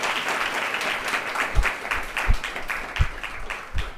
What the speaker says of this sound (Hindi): थोड़ा ताली तो बजाई दो